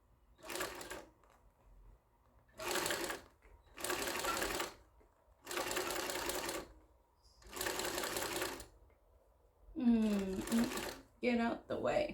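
Cylinder arm sewing machine stitching a bag, running in five loud bursts of about a second each separated by pauses, followed by a few shorter runs while a voice speaks near the end.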